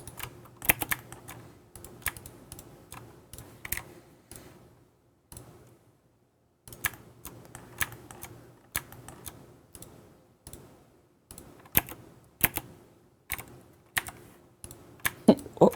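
Keys clatter on a CM Storm Quickfire Ultimate mechanical keyboard in sharp, crisp clicks, typed in irregular bursts with short pauses, close up and fairly loud against a quiet background.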